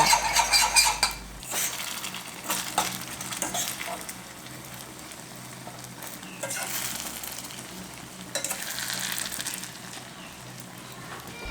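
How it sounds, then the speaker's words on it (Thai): A pork omelette fries in a pot with a steady sizzle while a fork scrapes and pokes at it, the crackle rising and falling in several bursts. "ใช้ซ่อมช่วยเขี่ยนะคะเพื่อให้หมูกับไข่สุกพร้อม ๆ กันค่ะ"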